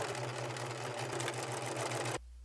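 A sewing machine stitches a swimsuit seam in a steady, continuous whir with a fine mechanical buzz. It runs close and unbroken for about two seconds, then stops abruptly.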